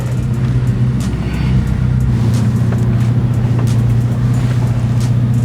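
A 2024 Lamborghini Revuelto hybrid's engine holds a steady, loud low drone at constant speed, with faint tire and road noise above it and no voices.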